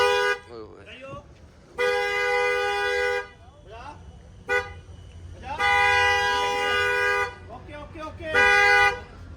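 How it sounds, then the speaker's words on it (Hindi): Car horns honk repeatedly in long sustained blasts at a motor dealership in Rohtak, several loud toots separated by short gaps, with voices talking between them. "हॉर्न बजा बजा खेल रहे हैं।"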